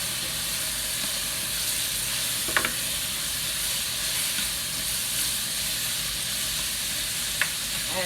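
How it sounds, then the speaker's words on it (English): Chicken pot pie noodles sizzle steadily in a hot skillet, with a continuous frying hiss and a couple of brief scraping clicks from stirring; no voices. "Give this another stir."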